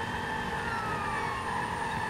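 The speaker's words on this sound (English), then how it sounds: "No, that's the ambulance." Ambulance siren in the Watch Dogs 2 video game, a steady wailing tone held throughout under a constant bed of game traffic and engine noise.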